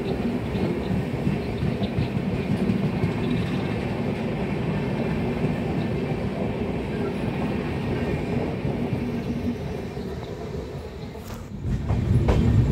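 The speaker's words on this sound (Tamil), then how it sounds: "Mangala Lakshadweep super fast express கிளம்பினோடனே நாம் முல்கியிலேருந்து கிளம்பிட்டோம்" Mangala Lakshadweep Superfast Express train in motion, a steady loud rumble with rail clatter throughout that swells louder near the end.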